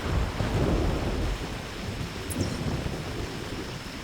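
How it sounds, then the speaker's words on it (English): Heavy rain and gusting wind in the hunting game theHunter 2017, a loud, dense, continuous roar of downpour and rushing air that never lets up and carries no voices. "it's so loud, this rain and wind, and it is really ripping out here"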